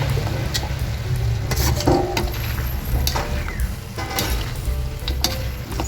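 Chayote sautéing in coconut-milk chicken adobo gives a steady close sizzle, with scrapes of a utensil stirring through the pan and a few light clinks against the pot.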